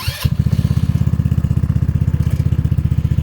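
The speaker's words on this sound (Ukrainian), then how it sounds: "Тепер натискаємо на тормоз і запускаємо" The engine of a Yoki Kart 200 teen buggy starts after a brief click and settles at once into a close, loud, evenly pulsing idle with a steady chugging rhythm.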